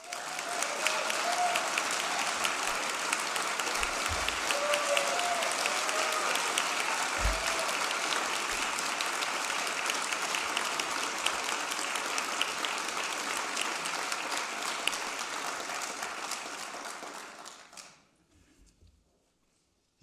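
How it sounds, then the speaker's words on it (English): An audience at a public health care announcement applauds, a dense, even clapping that holds steady for about seventeen seconds before cutting off into near silence with faint sounds of movement. "You got more applause than me."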